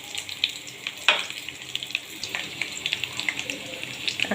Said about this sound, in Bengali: গাটি কচুগুলো ভাজা হয়ে গেছে। এখন দিয়ে দেব মশলাগুলো।